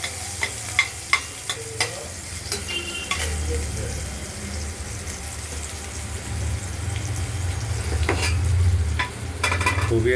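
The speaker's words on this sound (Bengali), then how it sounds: "পেঁয়াজগুলো আগেই ভাজা হয়ে গেছে, ভাজা করে নিলাম।" Chopped onions fry in hot oil with black cumin seeds in a kadai, a steady close sizzle running throughout with a few sharp clinks and scrapes of a stirring spoon early on.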